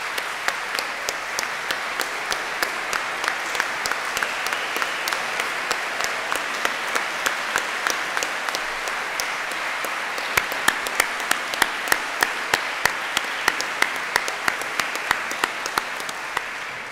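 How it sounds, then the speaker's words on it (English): Sustained applause from the audience at a Graduate School of Design gathering, steady clapping over the full stretch with a few sharper individual claps standing out near the end. "can we all give a big applaud for the 500 alumni in training?"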